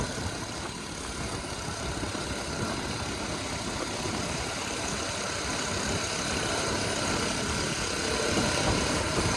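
A vehicle engine idles close by with a loud, steady, broadband rumble that barely changes over the whole stretch.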